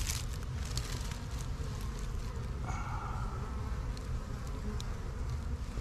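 Honey bees swarm and buzz around a hive during a winter oxalic acid wand treatment on Apimaye bottom boards, a dense, continuous drone with individual bees whizzing close by, no talking.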